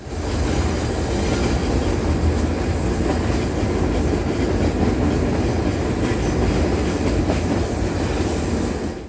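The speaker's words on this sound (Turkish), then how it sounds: "Şimdi Podgorica'dan tekrar trenimize bindik. Belgrad'a geçiyoruz." A passenger train travelling from Podgorica to Belgrade rumbles steadily from inside the carriage, with a loud continuous roll, faint rhythmic clatter of wheels on track and no speech.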